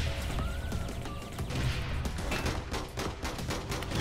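Dense, continuous gunfire and blasts in the online shooter game APB Reloaded, a loud unbroken barrage of rapid shots and thuddy booms filling the whole stretch with no speech.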